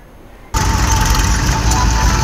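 A tractor engine at a pond digging site kicks in abruptly and then runs loud and steady at close range, with a constant throbbing drone and no talk.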